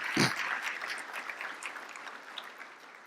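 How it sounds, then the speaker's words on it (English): An audience at the Urban League of the Central Carolinas Whitney M Young Gala claps in a short burst of applause that swells quickly and then thins out over a few seconds. "Please give yourselves a round of applause."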